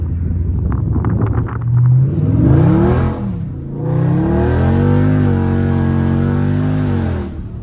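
A Dodge Scat Pack revs hard with its wheels spinning, a loud engine roar sweeping up and down, then holding high, bouncing RPM close by with no talk.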